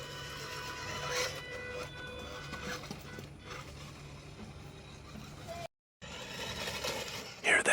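A WPL D64 4WD scale off-road RC truck rolls over paving stones outside a house, giving a steady rough mechanical rattle and motor whine at close range, with a brief dropout partway through and a louder burst at the end.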